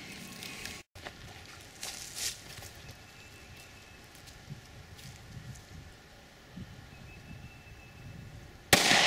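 A Grizzly Extreme .45 ACP round is fired into straight ballistics gel, giving one abrupt, loud report at the very end after a stretch of quieter background noise.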